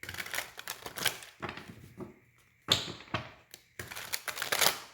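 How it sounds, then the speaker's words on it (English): Tarot cards being shuffled by hand during a reading: bursts of rapid riffling and slapping card flutters, close and dry, broken by short pauses, with no talk. "Let me get another good shuffle."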